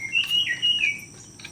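A tropical bird sings a bright, sustained chirping phrase, clear and fairly close for about a second before fading, with faint background ambience and no voices.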